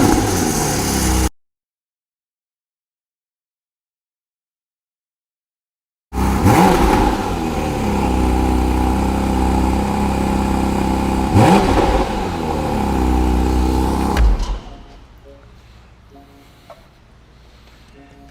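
A Porsche sports car engine with a 9,000 RPM redline, heard close up as it revs hard in sustained surges with rising pitch, then cuts off suddenly to quiet idle-like rumbling; a silent gap precedes the revving.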